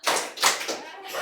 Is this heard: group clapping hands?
yes